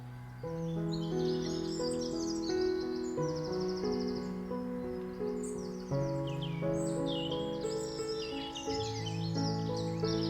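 Birds sing and chirp in a backyard garden in late afternoon, several overlapping melodic calls and tweets continuing steadily at moderate distance.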